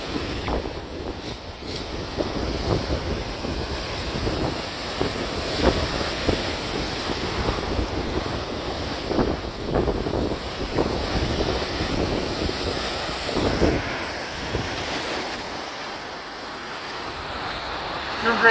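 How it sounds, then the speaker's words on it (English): Wind buffets the microphone as waves crash on Lake Superior during a winter storm, a loud churning roar of surf and gusts that runs the whole time with occasional surges. "Look at those waves."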